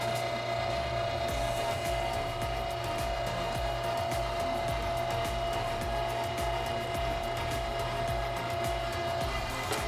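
An electric meat grinder grinds an entire prime brisket, its motor giving a steady, loud, continuous whirring hum with a rough churning texture throughout.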